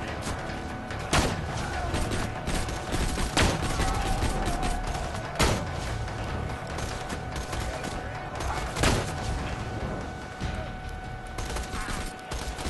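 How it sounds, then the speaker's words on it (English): Sniper rifle fire from Borderlands 2, a fire-element weapon, with several sharp shots spaced a couple of seconds apart over a dense, continuous backdrop of game battle noise and other gunfire. "Ooh, I'm really loving this sniper rifle, man."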